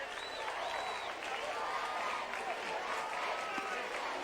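A California Little League World Series crowd cheers and applauds after a smoked home run in the 2004 championship game against Curaçao, a steady broad roar of distant stadium cheering under faint background commentary.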